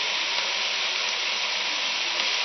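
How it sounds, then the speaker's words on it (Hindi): Onions and okra (bhindi) fry together in a pan for restaurant-style masala bhindi, giving a steady, dense sizzle with no break and no talking. "अब अच्छे से हम प्याजों को भिंडियों के साथ फ्राई कर लेंगे।"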